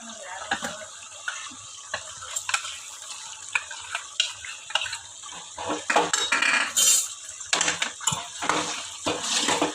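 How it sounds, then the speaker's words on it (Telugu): A spoon scraping and clinking in a pan as ginger garlic paste is mixed into mutton curry with drumsticks, irregular metallic strokes and stirring over a soft sizzle, close and fairly loud. "అల్లం వెల్లుల్లి పేస్ట్ వేసేసి ఒకసారి అయితే కలిపేసి సిమ్లో పెట్టి ఒక 5 నిమిషాలు అయితే మగ్గిపోతుంది చికెన్."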